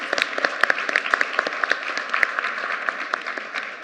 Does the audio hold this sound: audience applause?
yes